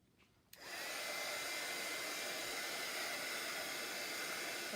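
A hair dryer switches on after a brief quiet moment and then runs steadily with a loud, even rushing hiss, drying a stained area up close.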